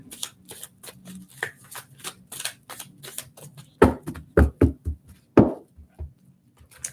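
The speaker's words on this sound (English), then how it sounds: "Big shuffle here." Rapid riffling and soft slaps of a card deck being shuffled, bursts repeating in quick rhythm, then a few louder snapping riffles, close and without talk.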